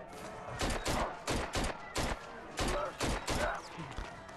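Gunfire from shooting at enemies in the video game ZombiU, a series of loud, sharp shots in irregular bursts, some spaced apart and some in quick pairs, with faint voice sounds in between.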